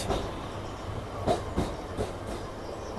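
A Kolkata circular rail train rumbles steadily across the Tollygunge bridge, its wheels clattering in a loud, rhythmic series of knocks over the tracks.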